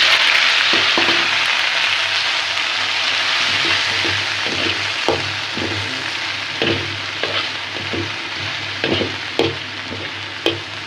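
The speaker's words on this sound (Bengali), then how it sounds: "আর এখন আমরা ধনিয়া পাতাটা ভাজবো।" Coriander leaves fry in a wok with a loud, steady sizzle, while a utensil stirs and scrapes against the pan in repeated sharp strokes and nobody speaks.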